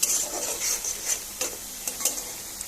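Parboiled potatoes turned in masala and oil in a pan: soft, quiet scraping strokes and a faint sizzle, with a few sharper spatula knocks near the end.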